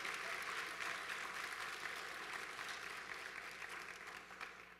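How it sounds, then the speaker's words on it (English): Conference audience at a social media marketing event applauding the event team, dense sustained clapping from a crowd that slowly fades toward the end. "give another round of applause to the entire team that brought this amazing event"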